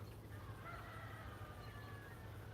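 Chickens clucking and a rooster crowing faintly in the distance over a steady low background hum, beside railroad tracks in downtown Stevenson, Alabama.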